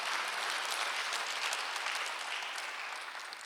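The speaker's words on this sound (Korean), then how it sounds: "박수하세요." Church congregation clapping during a Sunday worship service, an even wash of many hands applauding together, moderately loud and fading slightly at the close.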